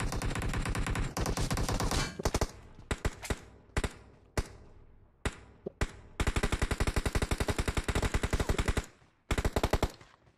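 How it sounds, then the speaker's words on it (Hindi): Gunfire in the PUBG Mobile video game: loud rapid automatic bursts interrupted by single shots and short pauses, then a long sustained volley followed by a final burst. "ओ भाई कोई फायर कर रहा है।"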